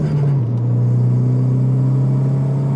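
A Renault Megane RS engine drones and rises steadily in pitch as it accelerates, loud and close, with a constant low rumble throughout.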